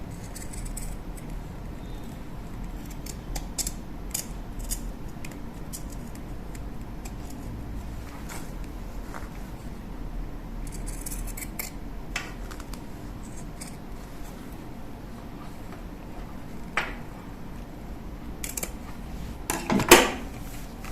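Scissors snipping through fabric corners while making a multi-purpose pouch, a steady run of small close crisp cuts over a constant background hiss, with a louder clatter near the end and no speech.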